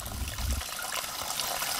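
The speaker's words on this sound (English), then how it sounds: "You can see that my water flow here is a lot more substantial than it was before." Water flows steadily into a small screen-covered bucket at a self-cleaning duck pond, a continuous close trickling gush with no voices.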